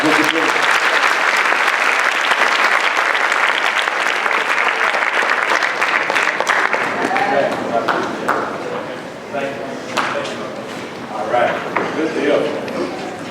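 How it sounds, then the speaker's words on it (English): Lecture-hall audience at a student leadership talk breaks into loud sustained applause, dense clapping that gradually thins and tapers while a voice speaks over the fading claps. "Let's give them a big round of applause"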